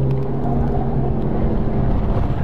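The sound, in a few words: car drifting in a slide with counter steer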